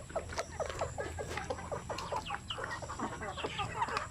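Backyard chickens clucking steadily in a loose, overlapping chorus with short rhythmic calls, moderately close and fairly quiet, with no one talking.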